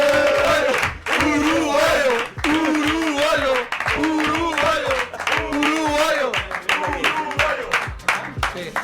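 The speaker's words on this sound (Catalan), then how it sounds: "Fort aplaudiment per Cristian Estuani." A crowd claps and cheers for footballer Cristhian Stuani at a live event, loud and sustained, with shouting voices and chanting riding over the applause.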